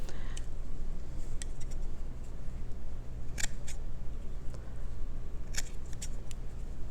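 Scissors snipping through an old cotton T-shirt to cut strips, a few sharp crisp clicks spread across the stretch over a steady low hum, close and fairly quiet with no talking.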